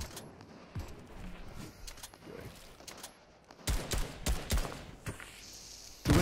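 Bursts of gunfire in Fortnite, rapid shots in clusters, with quieter distant pops early on and louder close volleys in the second half.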